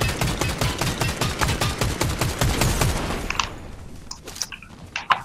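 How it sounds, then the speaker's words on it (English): Pistol gunshots in the Fortnite video game, fired in a rapid, steady burst of a dozen or more sharp cracks, then a few scattered, quieter shots and impacts. "Time for some long range pistol action."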